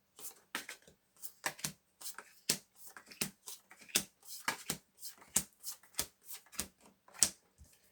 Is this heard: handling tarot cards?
yes